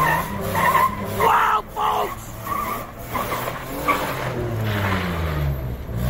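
Tires skid in a car video game, a sustained screeching slide close and loud throughout, with voices talking over it.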